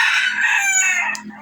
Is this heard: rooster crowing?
yes